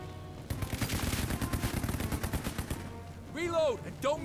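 Rapid machine gun fire rattles in Headquarters: World War II, a sustained burst of fast shots lasting a few seconds, loud and close, followed by brief voice chatter.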